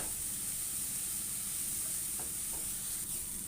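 Grated carrot sautéing in a pan for carrot halwa, heard as a continuous soft sizzling hiss with a few faint stirring ticks, close and steady, with nobody speaking.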